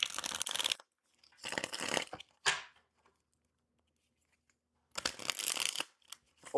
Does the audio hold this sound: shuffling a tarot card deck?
yes